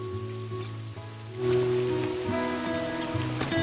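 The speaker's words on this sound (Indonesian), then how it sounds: "keraguan mulai menyusup di hatinya ketika hujan turun deras" Heavy rain pours steadily throughout, growing louder and denser partway through, with no voices over it.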